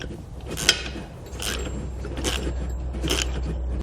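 Nylon lock nut being tightened onto a Firestone Ride-Rite air helper spring on a 2017 Nissan Frontier, giving a few close metallic clicks and scraping bursts over a steady low hum.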